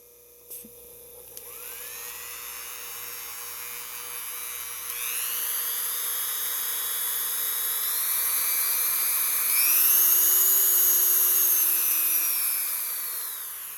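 A handheld rotary tool whirs at its lowest speed setting, a steady high-pitched electric whine that rises slightly in pitch partway through, heard close and alone.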